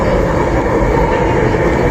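Aboard a light rail LRT train in Manila, a loud, steady rumble of wheels and motors fills the car without a break.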